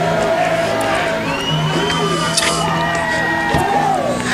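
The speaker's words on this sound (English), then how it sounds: "The crowd seems to really be enjoying this theme song, Phil." A wrestling arena crowd cheering, whooping and singing along to theme music, a loud, dense roar that carries on throughout.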